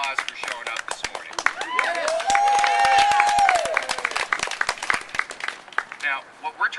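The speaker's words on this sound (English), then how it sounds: "you guys should give yourself a big round of applause for showing up this morning" Sparse, scattered hand claps from a crowd at an outdoor medical cannabis rally pop irregularly under a man's continuous amplified speech.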